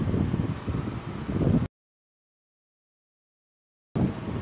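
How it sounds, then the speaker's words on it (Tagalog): Strong wind buffets the microphone in loud, rumbling gusts beside the flooded Marikina River, cut off by a stretch of silence before the roaring resumes. "oh, lakas ang hangin, no? Oh, lakas ng hangin."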